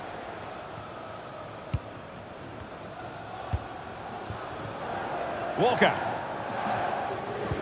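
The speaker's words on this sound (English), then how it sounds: "The crowd certainly think so. Just listen to that noise." Stadium crowd roar from a FIFA 23 football match, a steady broad wash that swells toward the end, with a commentator talking over it and a few sharp ball-strike thumps.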